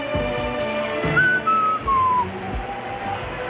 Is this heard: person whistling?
yes